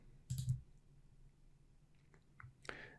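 Computer mouse clicks while working in Vectric V11 software, a couple of quiet, close, short clicks with faint desk noise in a near-silent room.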